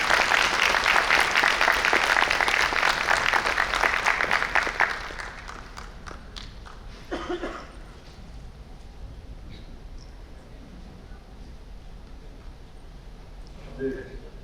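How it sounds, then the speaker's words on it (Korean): Loud applause fills a Korean opening ceremony and lecture hall for about five seconds, then stops abruptly, leaving quiet room tone with a few scattered claps and small bumps. "다시 한번 큰 박수 부탁드립니다."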